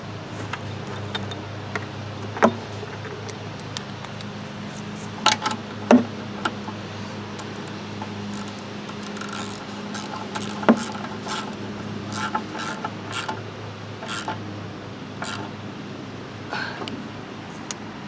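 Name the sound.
ratcheting a half-inch bolt on a lawn mower fuel tank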